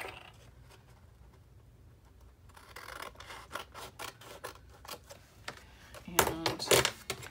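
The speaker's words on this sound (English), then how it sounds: "So I'm just gonna use my scissors." Close scissors snip through note cards in a run of crisp, rhythmic cuts, growing louder with a few heavier chops near the end.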